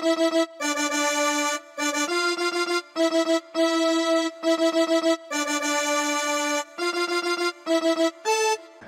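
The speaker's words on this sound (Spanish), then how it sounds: "con este acordeoncito que hice el punteo de la voz y suena así" A synthesized accordion in FL Studio plays a bright, reedy lead melody for a reggaeton-style remix in short phrases separated by brief pauses, with no voices.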